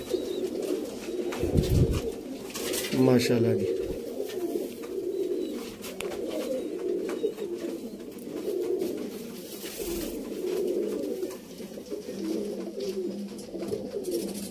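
Sialkoti pigeons coo in low, rolling murmurs that continue throughout, with a brief spoken remark and a few fluttering or handling noises nearby.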